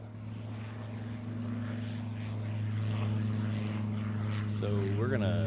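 An airliner departing a runway at Honolulu airport gives a steady, loud engine drone that builds slowly, and a brief rising whine near the end.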